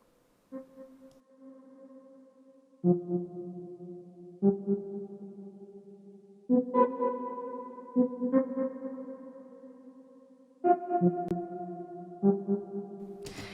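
A Pigments software synthesizer plays a slow sequence of sustained pad chords, each swelling in with soft attacks and rich echoing tails, no voices present.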